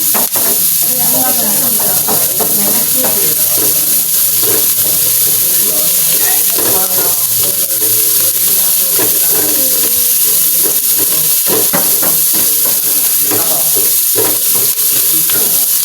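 Onions sauté in a hot pan, a loud continuous sizzle with stirring scrapes throughout, while a voice talks over it.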